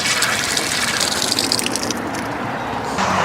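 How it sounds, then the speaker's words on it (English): Water gushes steadily from an outdoor garden faucet, a loud continuous splashing rush that lasts throughout and shifts slightly near the end. "you turn on the faucet and you turn off the faucet"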